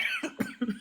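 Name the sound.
person imitating a cough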